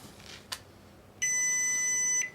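A receipt printer gives one steady electronic beep lasting about a second, clear and close, preceded by a soft click or rustle.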